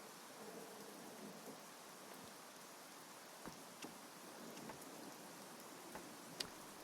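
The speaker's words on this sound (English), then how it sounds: "Good rain sounds." Rain in the video game Odd Realm, a constant soft hiss of falling rain with a few faint isolated drop taps, quiet and unbroken, with no talking.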